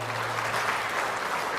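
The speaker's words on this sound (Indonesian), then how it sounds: "Tepuk tangan juga untuk beliau." Audience applause at the 2024 national work meeting of Indonesia's land and spatial planning ministry: steady, dense clapping from a large crowd, sustained at an even level throughout.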